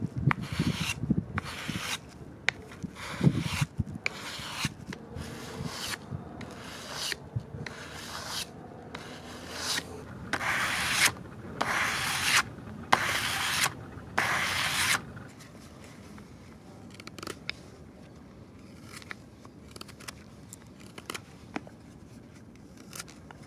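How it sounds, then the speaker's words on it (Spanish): A knife blade scraped rhythmically across 400-grit sandpaper, repeated rasping strokes at a steady pace, then softer, sparser scrapes toward the end. "vamos a darle un pequeño afilado a nuestro cuchillo"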